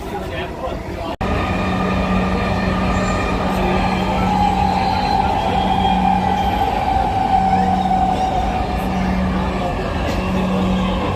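Inside a moving Dhaka metro train, a loud steady rumble fills the carriage with a sustained low hum and faint higher whine, after a brief dip near the start.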